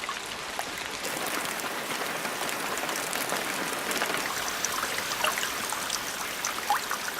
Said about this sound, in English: Precipitation falls incessantly throughout what is now the Amazonian rain season